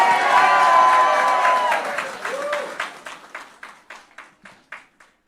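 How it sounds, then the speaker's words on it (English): An audience applauds the arrival of Guyana's newly re-elected president at a formal event. Dense, sustained clapping rises loud at first, then thins into scattered individual claps that fade out over about five seconds. "Give him a round of applause"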